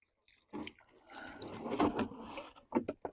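Water poured onto concrete mix around a fence post, a few short splashy trickles and gurgles close by in an otherwise quiet setting.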